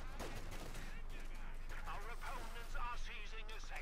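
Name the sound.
50 caliber machine gun firing in Company of Heroes 2 video game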